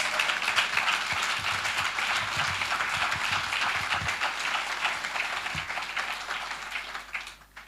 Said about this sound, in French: Clap offering to Jesus.